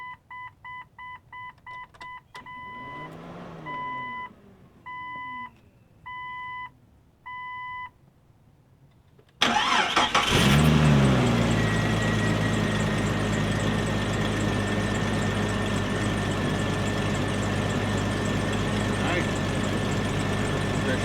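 A 1999 Jeep Cherokee engine cranks and catches after a run of dashboard chimes and beeps, then settles into a loud, steady idle that runs alone to the end.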